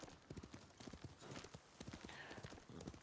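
Horse hooves clip-clop at a steady trot in Ghost of Tsushima, a continuous rhythmic run of close, quiet hoofbeats with faint ambient game sound underneath.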